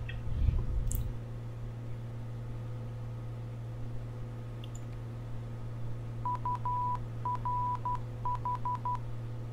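Morse code identifier tones from a navigation beacon in a flight simulator: a thin steady beeping in short and long pulses, grouped into repeating bursts near the end over a constant low cockpit hum, with no talk.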